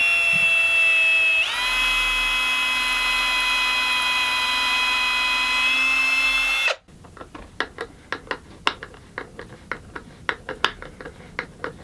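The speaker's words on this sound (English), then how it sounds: "Now I'll drill the holes for that." A power drill whines at high speed for several seconds, then stops, followed by scattered clicks and knocks of handling.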